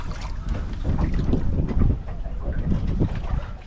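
A wooden wupeng boat rowed along a Wuzhen canal, with steady water and wind noise from the hull and oar continuing throughout at close range, no talk over it.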